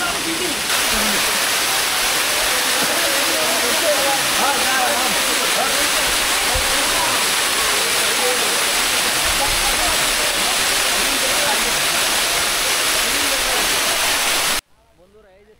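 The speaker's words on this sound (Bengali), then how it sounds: "এই যে দেখেন বিশাল এক ঝর্ণা।" Shaingong waterfall deep in the hills of Thanchi, a powerful continuous broadband roar of rushing water, loud and close, unbroken for the whole stretch before cutting off abruptly near the end.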